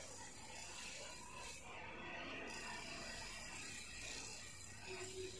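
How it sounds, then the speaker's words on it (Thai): A pedal-powered bicycle grindstone sharpens a knife with a continuous gritty, rasping scrape of steel on stone, steady and close with slight rises and dips in intensity. "มีกลไกแบบนี้นะคะใช้แรงคนปั่น ระหว่างรับไปก็มีสะเก็ดไฟออกมาด้วย"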